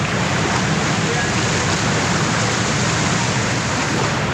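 Water pounding down at Devkund waterfall, Maharashtra, churning like ocean waves; a constant loud hiss and roar persists throughout, with no distinct voices standing out.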